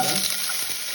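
Potatoes fry in a pan with eggs and a little cumin, a loud, dense hissing sizzle with a light stir, heard briefly and close up without speech.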